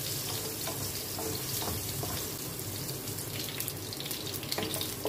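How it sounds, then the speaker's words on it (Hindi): Chopped garlic fries lightly in a pan with a soft, steady sizzle and crackle that holds at an even level throughout, close and without voices. "देखिए, लहसुन हमारा फ्राई हो गया है।"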